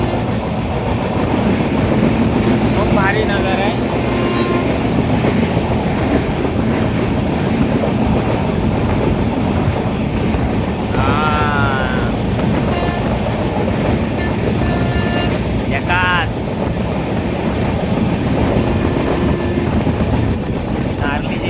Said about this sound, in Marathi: ट्रेन हॉर्न मारत पुढं पुढे जाते